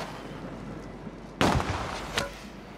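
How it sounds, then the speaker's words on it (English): A Call of Duty Warzone airstrike on Rebirth Island: one sharp, loud explosive blast over steady game background noise, then a smaller boom under a second later. "Help me survive that airstrike"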